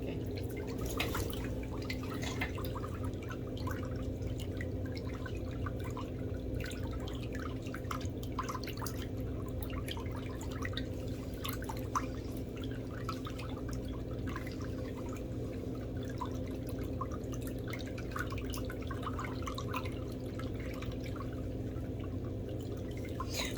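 Water drips and trickles softly in a foot bath during a pedicure, a light continuous scatter of small splashes over a steady low hum, faint and close, with no talking.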